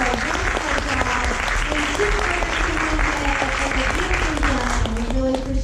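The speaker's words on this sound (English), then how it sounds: "let's give them a big round of applause for a wonderful job" Steady applause from a crowd, dense clapping sustained throughout at an even level, with a voice faintly audible underneath.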